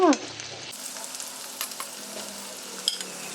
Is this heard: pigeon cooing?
no